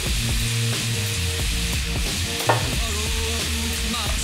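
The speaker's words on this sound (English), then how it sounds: "We're just going to want to slosh this around. Let all the dry ingredients kind of sear into the meat." Steak stir-fry seasoned with black pepper searing in a pan, a loud continuous sizzle up close with scattered clicks and scrapes of the meat being sloshed around, no talking.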